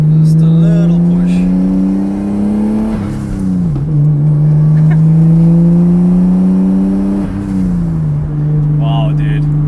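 A Nissan 200SX with a swapped RB25 engine drones steadily while driving, its pitch climbing and then dropping sharply twice as revs rise and fall between gears, heard up close from inside the cabin with some talking over it.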